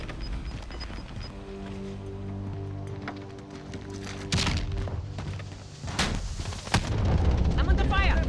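Gunfire and heavy booms in Call of Duty: Warzone, with a steady game hum that breaks into sharp, loud shots and a couple of blasts in quick succession near the end.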